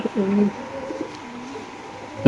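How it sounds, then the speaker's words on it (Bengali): A male racer pigeon in a cage gives a few short cooing calls close by, with faint background noise between them. "নরের ডাকটা দেখাই দিই"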